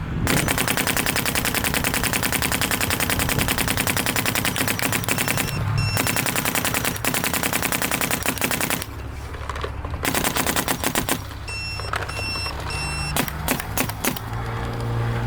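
A Dye CZR+ paintball marker fires rapid, continuous volleys as the rest of a hopper of 5-star paint is emptied, loud and close, with a couple of brief pauses between long bursts.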